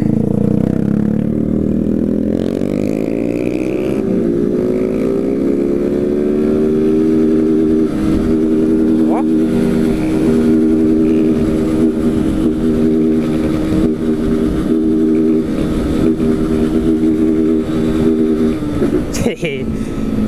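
Honda CG 160 Fan motorcycle engine, close and loud, revving up and holding against the rev limiter with a steady stuttering drone for many seconds, a voice briefly audible.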